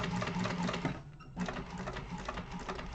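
A sewing machine stitches fabric for a Rosie sling in a sewing class, a fast, steady mechanical whir with rapid needle ticking, briefly pausing near the middle before running on.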